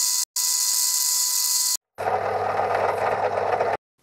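Angle grinder cutting a groove into a metal shaft with a replacement disc, a loud high-pitched whine that cuts off briefly, then a harsher, lower grinding burst, close up with no talk.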